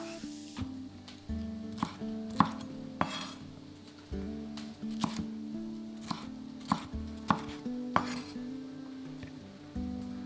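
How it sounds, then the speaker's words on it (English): A knife chops red and yellow bell peppers on a board in a steady series of crisp, close thuds, roughly a dozen strikes with short pauses between them. "Now we're going to chop a red and yellow pepper and add them to the pan."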